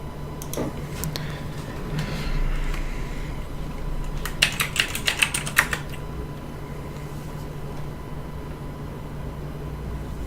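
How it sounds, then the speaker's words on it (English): Someone types a password on a computer keyboard: a quick run of light, crisp key clicks in a short burst, with a few scattered taps before it over a quiet room hum, and no talk. "Excuse me while I type my password back in."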